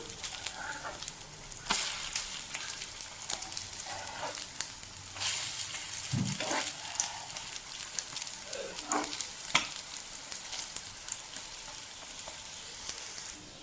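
Egg-coated bread snack sizzles steadily in a pan after being flipped, a continuous close frying hiss with brief crackles and small utensil touches, no voices.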